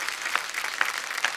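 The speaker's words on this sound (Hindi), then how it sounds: "एक बार जोरदार तालियां" An audience claps at a talk show, a short burst of applause with distinct individual claps standing out over a steady patter, moderately loud and close.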